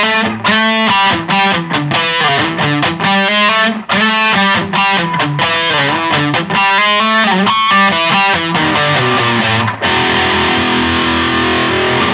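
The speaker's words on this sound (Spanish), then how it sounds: "Es simplemente una distorsión común, no es ninguna en especial" Electric guitar played through an ordinary distortion pedal with neutral EQ, loud and saturated, chugging rhythmic chords and riffs that end in a sustained ringing chord, with no voices.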